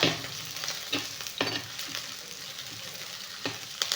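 Dried red chillies fry and sizzle in a hot pan with a steady crackle, broken by several sharp stirring scrapes and clinks, close and moderately loud with no voices.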